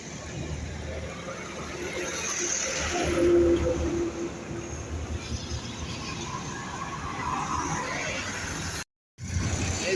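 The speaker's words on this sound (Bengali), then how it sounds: "এই দেখো ট্রেন আরেকটা যাচ্ছে" A train passes nearby in a continuous, rolling rumble that rises slightly midway, with a brief cutout near the end.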